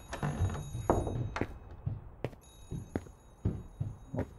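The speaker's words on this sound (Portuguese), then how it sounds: "vamos atender esse telefone aí" An old telephone rings repeatedly in the horror game Remothered: Broken Porcelain, sharp bell bursts recurring at a steady rhythm against a low, hollow ambient background.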